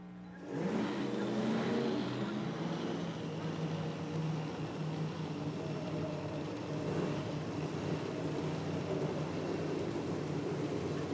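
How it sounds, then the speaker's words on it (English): A Top Fuel dragster engine at an IHRA Outlaw Nitro Series event fires up and runs, a loud, steady, throbbing roar that holds at full level throughout after a sharp start. "Phil Ez car didn't want to fire up, but they got it going now."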